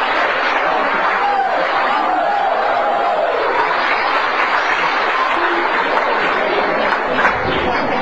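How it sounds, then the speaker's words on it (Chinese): A theatre audience gives a crosstalk performer loud, steady applause, thick continuous clapping with a few scattered chuckles mixed in, sustained for about eight seconds. "谢谢大家给我一个人的掌声。"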